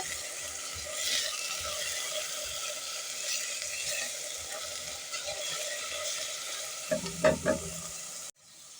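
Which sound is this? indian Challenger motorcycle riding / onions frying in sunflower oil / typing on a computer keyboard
onions frying in sunflower oil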